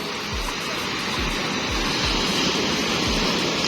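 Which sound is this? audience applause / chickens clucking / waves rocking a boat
waves rocking a boat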